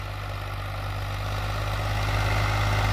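A Mahindra 265 DI tractor engine in original condition idles steadily with a low, constant rumble that builds slightly toward the end, close by and with no voices.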